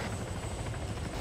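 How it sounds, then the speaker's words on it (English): A medevac helicopter's rotor chop and engine roar steadily and loudly in a brief burst, with no voices over it. "helicopter now"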